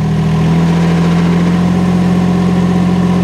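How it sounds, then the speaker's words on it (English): A UHI UME 12 mini excavator's engine runs with the auger drive engaged, a loud, steady, close mechanical drone whose pitch shifts slightly early on, then holds even throughout. "If I press down on this pedal, it starts the auger drive, so now it's spinning in a clockwise direction."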